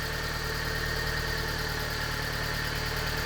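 A Vauxhall Zafira GSI with a Z20LET turbo petrol engine, a barn find restarted after seven years, idles steadily on cold start, a constant low mechanical hum and whir close up with no talking.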